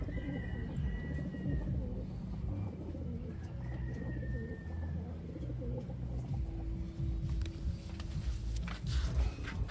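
Close to the microphone, pigeons coo in soft repeated calls with rustling and faint shuffling around them. A few brief coos rise over a low, steady background.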